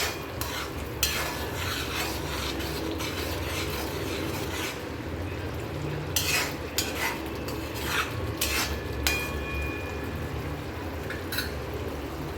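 A spoon stirs tomato masala in a pan, with steady scraping and soft sizzling broken by frequent sharp metallic clinks against the pan, close and continuous throughout.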